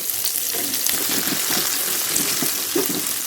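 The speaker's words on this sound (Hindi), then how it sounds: "प्याज को हम गोल्डन ब्राउन करेंगे" Finely chopped onions fry with cumin, cardamom, cloves and black peppercorns for a mutton karahi, sizzling loudly and continuously up close, with soft bubbling pops and no talk.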